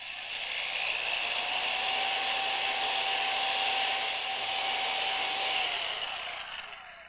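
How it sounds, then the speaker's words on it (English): An electric drill with a polishing pad buffs polish into the paint of a 2002 car, giving a steady whirring hum that runs loud and close for the whole stretch, easing off near the end. "and then just run the drill."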